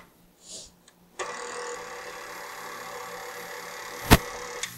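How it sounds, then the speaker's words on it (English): An electric mixer beats cake batter, starting after a short quiet moment with a steady motor whir that holds evenly, broken near the end by a sharp click and a small clack. "So I'm actually going to stop the mixer right now."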